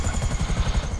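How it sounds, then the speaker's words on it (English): Helicopter in GTA 5 Online, a low, steady rotor thrum with a rhythmic pulsing beat, fairly loud and close, with no talking over it. "They even get helicopter return service."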